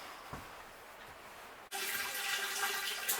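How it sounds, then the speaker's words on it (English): Water suddenly gushes on into a homemade 14-inch cyclone bowl gold concentrator lined with a silicone mat, a loud, steady rushing flow that follows a quieter stretch of background noise. "Let's get some water in there."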